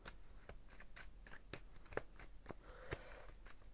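Tarot cards are shuffled close by, a quiet series of crisp riffles and soft slaps repeating in an irregular rhythm.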